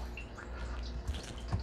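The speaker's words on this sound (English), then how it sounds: "Right now, it's flowing because I have it making water" Reverse osmosis wastewater runs from the system's line into a drain connection beside a tub, giving a steady low trickle with faint drips, fairly close and alone.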